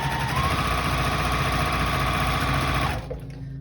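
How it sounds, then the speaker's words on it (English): Sewing machine chain piecing quilt blocks, a fast steady mechanical whir running close and loud for about three seconds before stopping. "So I will start chain piecing here."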